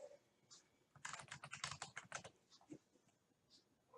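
Computer keyboard typing while building a photo overlay: a quick cluster of crisp key clicks in the middle, with a few isolated taps before and after, close and fairly quiet, no voices.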